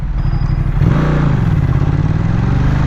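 A motorcycle rides through town, its engine close and loud with a steady throbbing putter that rises slightly in pitch as it accelerates, alone with no talking.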